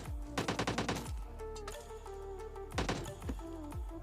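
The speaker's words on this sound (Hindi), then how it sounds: "मुझे कुछ बॉट्स के गन शॉट्स की आवाज़ आती है" Gunfire from bots in a battle royale video game: a rapid burst of automatic shots, then a few single reports, then a second short burst, loud and close.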